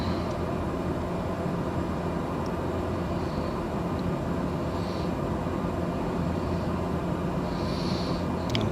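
Aircraft cruising about 500 feet above the ground at roughly 150 knots, a steady loud engine and airflow drone heard from inside the cabin, unbroken throughout with no talk.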